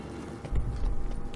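Horse hooves clip-clopping in The Witcher 3 game, a low, steady rhythm of thuds that grows louder after a quiet start and continues alone with no talk.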